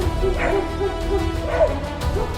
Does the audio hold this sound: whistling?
no